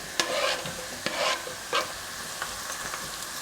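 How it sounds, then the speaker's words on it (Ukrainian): Diced pepper is tipped in among frying carrot and onion in a pan, with crackling sizzle and several close spatula scrapes and taps as the vegetables are stirred. "Морква з цибули трохи піджарилися, можна викладати перець"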